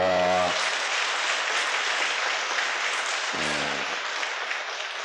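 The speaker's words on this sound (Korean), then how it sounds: "우리 박수로 환영합시다." Church congregation applauding to welcome visiting pilgrims during a Mass homily, steady broad clapping from many hands that fills the hall, with brief spoken voices at the start and midway.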